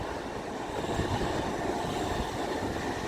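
LNER Class 801 electric multiple unit running through a station on the East Coast Main Line at Chesterfield, a steady loud rushing roar of wheels and body with broadband rumble throughout, no talk.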